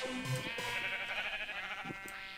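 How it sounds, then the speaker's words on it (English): Sheep bleating in a blocky crafting video game: a couple of short, wavering bleats close by over a soft steady tonal background, with no talking. "Got sheep here."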